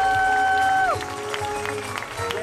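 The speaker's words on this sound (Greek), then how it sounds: "Μεγάλο χειροκρότημα στην ορχήστρα." Concert audience applauding the orchestra at an outdoor music event in a Greek village, a dense crowd clatter under a fading held tone and stray voices.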